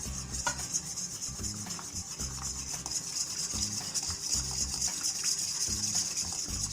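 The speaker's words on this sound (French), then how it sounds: "on va verser petit à petit l'eau de chaux" Lime water is poured little by little into warm oils to make a calendula liniment, giving a faint, continuous trickling and rubbing sound in a quiet room.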